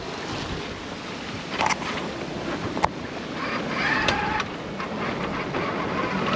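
A sailboat under engine pushes through the Strait of Gibraltar against headwind and waves, with constant wind roar buffeting the microphone, water rushing along the hull and occasional sharp slaps of spray.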